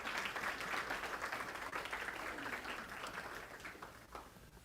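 A crowd applauds steadily at a talk event, a dense, even patter of many hands clapping that fills the short stretch and tapers slightly at the end, with no voices over it.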